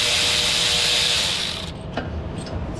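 A socket ratchet works on studs on a ZF 8/9-speed automatic transmission. It gives a sustained close mechanical grinding buzz, then a few faint clicks as it settles.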